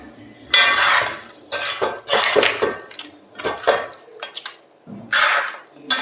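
A utensil stirs crab roast with potatoes in a pot, making clattering scrapes and clinks against the metal in uneven bursts, close and loud, with no talking.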